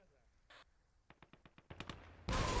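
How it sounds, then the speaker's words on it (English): A Katyusha rocket artillery volley in Gates of Hell: a quick string of sharp, evenly spaced launches builds in loudness, then breaks into a sustained roaring burst at the end. "That was excellent volley from Katusha."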